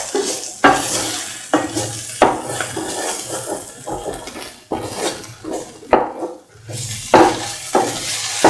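Metal spoon scraping and clanking rhythmically against a pan while stirring spinach and cottage cheese stew, with a soft sizzle underneath, repeated strokes roughly every second, close and fairly loud, no talk.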